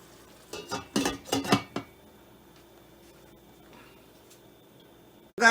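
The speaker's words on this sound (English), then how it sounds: "let's go ahead and cover this pot and allow it to do its thing" A pot of Jamaican-style curry chicken being covered, with a cluster of sharp metallic clanks and clatters as the lid goes on, then a quiet stretch and one more knock at the end.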